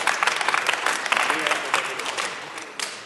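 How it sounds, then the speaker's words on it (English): An audience at the Pwnie Awards ceremony at Black Hat USA 2014 breaks into loud, sustained applause that fills the room, with crowd voices mixed in as the clapping slowly tapers off. "Round of applause, please."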